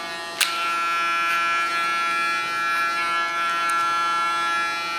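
An electric hair clipper buzzes steadily and close up as only its tip trims the side hair of a short pixie cut, with a few faint clicks at the start and no talking.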